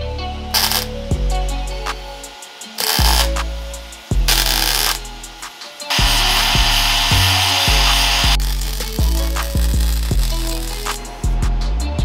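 A power saw cuts through steel tube being trimmed down into sleeves for a winch fairlead, a loud continuous grinding whine with rising and falling pitch, broken by short pauses between cuts.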